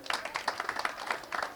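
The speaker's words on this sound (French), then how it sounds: "Qu'on les applaudisse très fort" An audience applauding at a book dedication ceremony in Lam Lam, a short burst of moderately distant, dense clapping.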